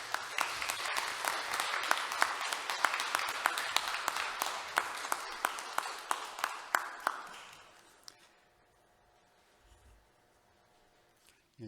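An audience in a staff retreat service claps to welcome a pastor, many hands in a fairly dense sustained applause that fades out after about eight seconds into a quiet room.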